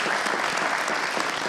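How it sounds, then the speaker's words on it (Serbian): A studio audience applauds, a brief burst of dense, even clapping from many hands that fills the room at full strength. "Ja molim jedan veliki aplauz da pozdravimo"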